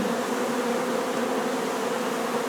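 Purebred Carpathian honey bees at their hives, a dense, steady buzzing drone of many insects, loud and close, constant throughout with no voices.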